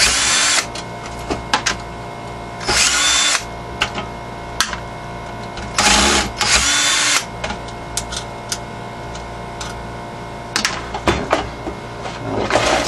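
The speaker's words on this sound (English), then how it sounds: "Let's take these screws out that are holding the fan in place." A power screwdriver backs screws out of the fan in a computer power supply being scrapped for aluminum and copper, giving several loud whirring bursts of a few seconds each with quieter handling clatter between them.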